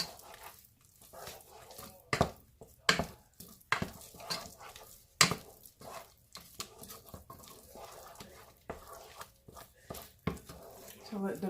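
A spoon stirs butter into a pot of grits, giving repeated sharp scrapes and taps against the pot over a faint simmer, with talk in between.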